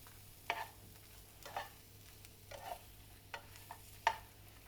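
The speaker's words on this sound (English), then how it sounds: "So we just want to make sure that the tofu's mixed in with the spice mix" Tofu stirred with a spice mix in a pan, scattered utensil scrapes and clicks against the pan at an uneven pace, fairly quiet and close, with no voices.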